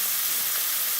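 Bacon and vegetables frying in a pan for a breakfast sandwich give a steady, close, broadband sizzle with no voices over it.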